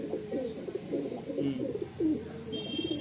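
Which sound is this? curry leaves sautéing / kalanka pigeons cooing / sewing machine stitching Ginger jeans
kalanka pigeons cooing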